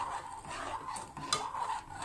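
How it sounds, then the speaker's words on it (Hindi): A spoon stirring walnut halwa with ghee and milk in a pan, giving soft continuous scraping and a faint sizzle, quiet and close, with one brief clink of metal on the pan. "अब इसको भी कंटिन्यूसली चलाएंगे ताकि कुछ भी नीचे चिपके ना।"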